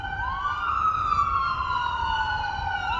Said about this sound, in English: Let's let this ambulance go by.